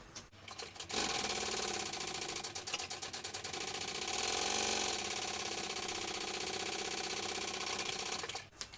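A sewing machine bastes fabric pieces together for a sling, whirring in a fast, even mechanical stitching run for several seconds after a brief start, then stopping.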